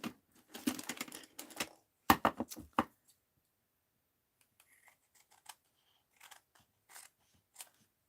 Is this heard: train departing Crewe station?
no